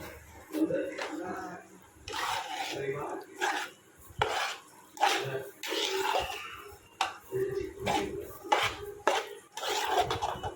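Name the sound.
mixing mawa sweet mixture in a pan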